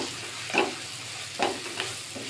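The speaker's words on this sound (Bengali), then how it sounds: "মশলাতে সব কিছু ভালোভাবে কষিয়ে নিব।" Spice masala with Kashmiri chili powder sautéing in oil in a pan, a soft continuous sizzle broken by a few scraping stirs, close and without talking.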